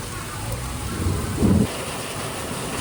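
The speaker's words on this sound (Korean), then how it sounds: "정말 많은 비가 내리고 있어요." Heavy rain pours down in Macau's Taipa area, a dense steady hiss and wash that swells briefly louder midway and never lets up.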